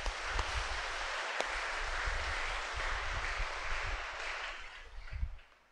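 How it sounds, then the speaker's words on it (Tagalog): Steady applause from a church congregation, a dense wash of clapping that holds for several seconds before tapering off at the end. "Kaya bigyan po natin siya ng masigabong palakpak"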